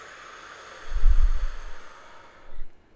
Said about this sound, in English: a deep breath is so powerful